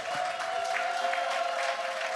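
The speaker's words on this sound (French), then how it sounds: "On l'applaudit très fort." Steady applause from a church gala audience in Montréal, a dense even wash of clapping heard throughout with no pauses.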